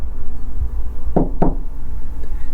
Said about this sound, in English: knocking on the door